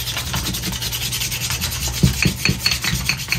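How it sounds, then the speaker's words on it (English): Light sanding scuffs a plastic tuna fish mold by hand, a steady close rasping rub with a few sharper strokes near the end, no voices. "I've got it dried off, so the first step is going to be some light sanding."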